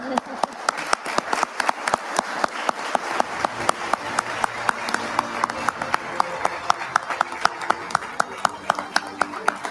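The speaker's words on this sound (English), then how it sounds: "Give a yeah. round of applause." Awards-night audience gives a round of applause, sharp individual claps in a steady rhythm over a softer crowd clapping bed, fairly close, with some talk underneath.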